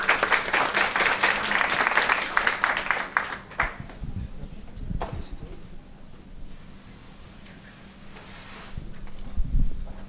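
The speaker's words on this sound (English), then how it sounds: "So please give her a round of applause." Conference audience applause, a burst of many hands clapping that fades out after a few seconds, followed by background room murmur and someone speaking.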